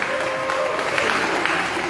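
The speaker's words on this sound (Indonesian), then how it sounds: "tepuk tangan dong untuk teman-teman yang sudah director" An indoor audience claps warmly for concert directors, producing a brief, steady burst of applause with no pauses or breaks.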